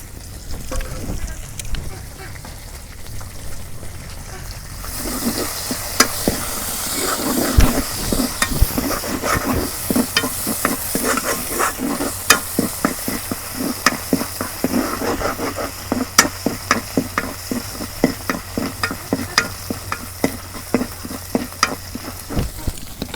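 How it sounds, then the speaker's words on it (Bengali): Garlic hits hot oil for arum-root dal in a village kitchen: a quiet start bursts into loud, crackling sizzle after a few seconds, then repeated rhythmic spoon scrapes and knocks against the pan continue steadily. "মুহির ডাল আমি রসুন দিয়ে বাগা দেব।"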